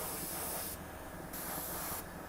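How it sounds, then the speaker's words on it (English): An air spray gun hisses as it sprays gloss black paint at raised air pressure, a steady broad hiss in bursts with brief gaps between passes, close and loud. "If I up the pressure, the air pressure, you start seeing how it just turns into gloss as I spray it."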